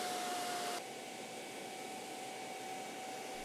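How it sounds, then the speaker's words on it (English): A Whisper Twister artificial turf leaf blower with a swiveling nozzle runs as a steady, even whooshing roar, slightly louder at first and then holding constant. "the blower can be swiveled progressively through 180 degrees to blow the leaves in the desired"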